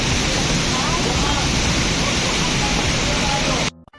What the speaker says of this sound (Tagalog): Yes, that is Mother Falls.